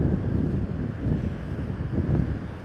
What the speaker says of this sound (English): it gets really windy here